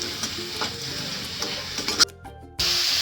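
Sprouted moth bean curry stirred in a pan, with soft scraping and a light sizzle for two seconds, then a short near-silent gap before the sizzling noise resumes.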